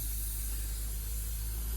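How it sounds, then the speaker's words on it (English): An airbrush sprays paint onto the underside of a Bachmann 1:20.3 scale model caboose during weathering, giving a close, continuous, even hiss that holds steady throughout. "I'm spraying a little bit underneath because we're just going to tone that all down."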